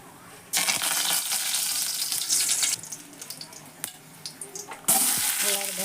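Curry leaves and onion go into hot oil with mustard seeds for tempering, setting off loud, crackling bursts of sizzling that rise and fall in separate surges, close by.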